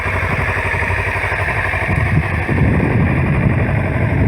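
A motorcycle engine runs loud and close, its pitch rising and pulsing as it revs up.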